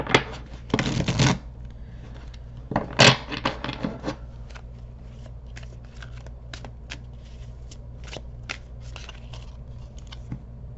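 Tarot cards being shuffled, with a loud riffling burst near the start and another around three seconds, followed by lighter scattered card snaps and taps across a quiet room.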